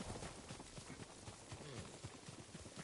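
Rhythmic clip-clop of horse hooves galloping in the Ghost of Tsushima video game, a steady quick beat of thudding steps at moderate distance, faint and continuous with no talk over it.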